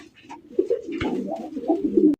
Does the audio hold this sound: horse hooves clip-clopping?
no